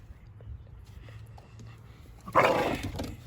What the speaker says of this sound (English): That is basically my dog Tucker.